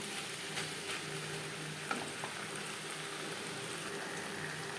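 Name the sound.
snake gourd being stirred in a pan over high-medium flame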